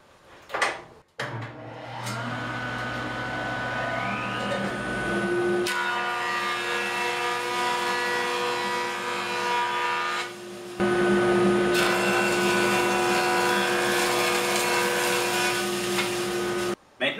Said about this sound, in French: Quand on veut du bois droit, on n'a pas le choix, il faut le dégauchir.